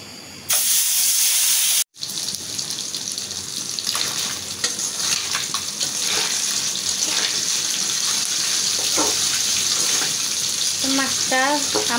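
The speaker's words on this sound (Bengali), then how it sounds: "আমার তেলটা গরম হয়ে গেছে, এখন আমি মাছটা দিয়ে দেব।" Pieces of eel fish (bain) go into hot oil and fry with a loud, steady close-up sizzle and hiss that stays strong throughout after a brief drop near the start.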